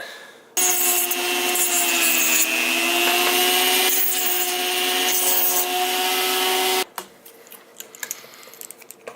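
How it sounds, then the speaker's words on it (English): Small plastic ridges on a pulley rim are sanded down for a homemade cable cam, making a loud, steady, whirring abrasive grind for about six seconds before stopping, followed by faint light handling clicks. "these little ridges here kind of impede the pulley from sitting properly against the rim, so I'm just going to sand these down a little bit"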